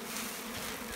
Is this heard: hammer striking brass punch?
no